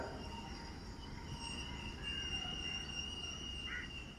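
A goods train rolls through Vellayil railway station in Kozhikode, its wagons rumbling steadily as wheels squeal in high, drawn-out tones above the heavy rail noise.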